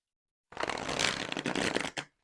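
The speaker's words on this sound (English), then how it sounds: "So this is on their standard glossy stock, super bendy, easy to shuffle, nice and compact cards." A compact deck of tarot cards on thin, bendy glossy stock is riffle-shuffled close up, a rapid papery flutter lasting about a second and a half, ending in a brief tap as the cards settle.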